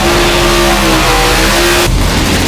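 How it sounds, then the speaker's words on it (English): Drag racing cars launch side by side, a 2018 Chevrolet Camaro and a 2021 Dragpak Hemi of 354 cubic inches, at an NMCA All Star Nationals event; loud, sustained engine roar with rising revs, then an abrupt shift near the end. "18 Chevrolet Camaro, Lee Hartman in the left lane, 21 Dragpak Hemi, 354 cubic inches"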